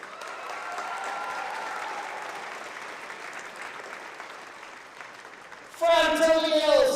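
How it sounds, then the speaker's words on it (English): Audience applause at a school award show, a broad steady wash of clapping that fades slightly before a voice speaks over the last second. "big round of applause from Intercom High School"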